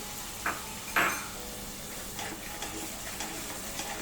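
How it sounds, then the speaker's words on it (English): Tomato puree sizzles with chicken in a pan for Old Delhi-style chicken changezi curry, a faint steady frying hiss broken by two sharp utensil clinks early on and softer stirring scrapes after. "Now it's time to add the tomato puree of 2 medium sized tomatoes and cook it well."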